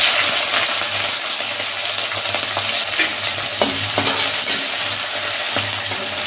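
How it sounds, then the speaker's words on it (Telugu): Mustard seeds, cumin and green chilies fry in hot oil for a home-style drumstick curry, a dense, steady sizzle with scattered pops and the scrape of stirring close by. "ఇందులో ఆవాలు వేస్తున్నా, జీలకర్ర కూడా వేస్తున్నా."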